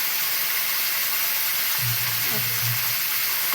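Mustard fish fries in hot oil, a loud, steady close sizzle and hiss throughout, with a brief voice partway through.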